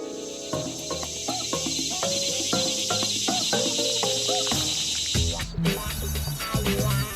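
Crickets chirp in a steady, continuous high trill in an animated series, running under a melodic music score throughout, with no talking.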